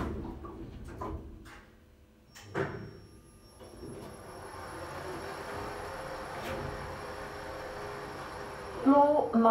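A low mechanical hum of a Kone Monospace elevator moving down in Gateshead, steady and moderate, with a few clunks early and a short chime near the end.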